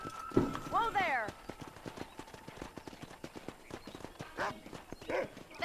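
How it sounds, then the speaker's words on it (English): A horse's hooves clip-clopping at a steady walk in the Red Dead Redemption video game, with a whinny near the start and another near the end, while a voice talks over it. "Mount my horse."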